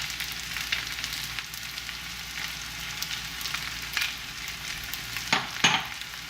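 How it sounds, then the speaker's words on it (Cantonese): Crispy noodles half pan-fried, half deep-fried in oil for Guangzhou-style double-sided crispy noodles with Chinese broccoli and ham, giving a continuous soft sizzle with a few sharper scraping clatters near the end and no talking. "其實咧就係半煎半炸嘅，令到佢條條都脆卜卜"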